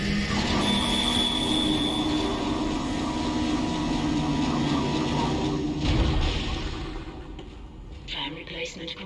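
A tram arriving in a video game, with loud rumbling rail noise and a high wheel squeal that builds, then stops with a thud before quieter mechanical sounds, under some talk.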